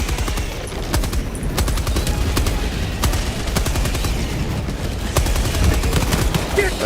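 A Gatling sentry gun fires in a video game, a rapid, continuous stream of loud shots with dense rattling bursts over a busy battle background.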